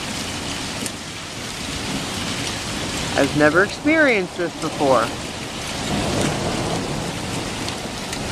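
A Chicago thunderstorm brings steady rain and a low, continuous thunder rumble, with a voice speaking briefly over the downpour partway through.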